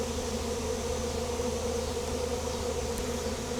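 A wild honey bee swarm drones around a box, a dense, continuous buzzing hum of many bees, fairly soft and steady throughout with no voices.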